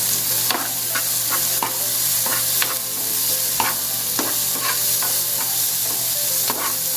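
Curry leaves and onion frying in a pan make a steady close sizzle, with repeated scraping clicks of a spoon stirring every second or so; no voices.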